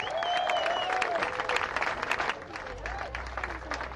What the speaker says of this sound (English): let's give Northeast LA a big round of applause